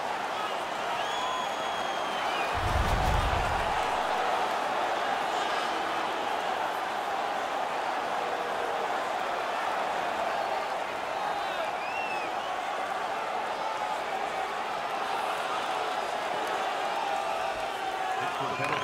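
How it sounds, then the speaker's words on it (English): A steady roar of a large home crowd cheering at an NHL 17 hockey game fills the space, with a brief low thud early on and no clear talk over it. "The home crowd is ecstatic. They're making all kinds of noise."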